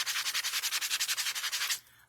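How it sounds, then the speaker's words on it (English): An older sanding block is rubbed back and forth over wood in quick, even strokes, about eight per second, close and crisp, before stopping abruptly near the end. "let me sand this down. I'm just going to use a sanding block it's a little older"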